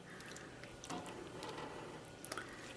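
Yarn is stirred around in a pot of dye, giving soft wet squishes and faint liquid sloshes with a few small drips, quiet and close.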